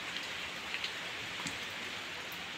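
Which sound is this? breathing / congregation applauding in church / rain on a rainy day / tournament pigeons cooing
rain on a rainy day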